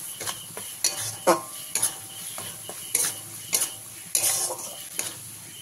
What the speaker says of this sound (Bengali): মশলাটাকে খুব ভালো করে মিশিয়ে নিয়ে ভেজে নিতে হবে।